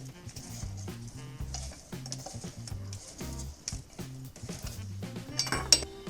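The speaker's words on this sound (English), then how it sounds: "then I'm gonna break out the iron and spin the lug nuts on and get them fairly tight" A tire iron spins lug nuts onto the wheel studs of a Toyota 4Runner, giving quick metallic clinks and rattling ticks in irregular bursts at moderate level up close.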